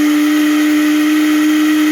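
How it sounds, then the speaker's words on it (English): A Vitamix E320 Explorian blender runs steadily at close range, a loud continuous motor whir with a strong fixed hum that holds the same pitch without pause and has no talking over it. "let's go ahead and blend it some more"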